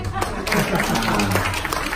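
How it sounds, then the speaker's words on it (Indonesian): An audience claps in a lively burst while voices carry over the noise of the room. "Coba tepuk tangan dengan rumah sakit dulu."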